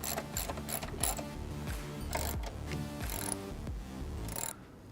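A ratchet wrench clicks in quick repeated bursts as bolts are tightened to secure a bracket on a Jeep Wrangler JK, loud and near with brief pauses between strokes before stopping.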